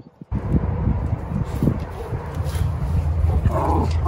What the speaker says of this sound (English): Y'all tell him to stop that barking.